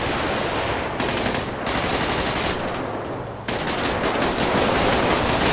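Rapid automatic gunfire in GTA 5 roleplay rattles continuously and loudly in close, dense bursts with no pauses.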